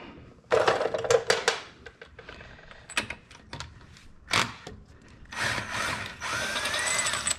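A cordless power driver spins off tight lug nuts on a C8 Corvette in bursts, whirring and ratcheting loudly several times with short pauses between runs.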